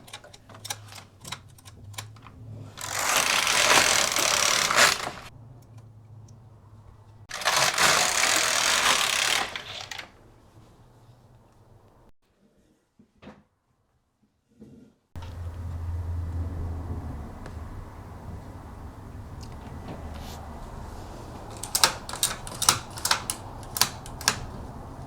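A Brother KX 350 knitting machine is worked by hand, its carriage swept across the needle bed in two loud, rasping passes, followed by a quiet pause and then lighter clicking and ticking as the mechanism is handled.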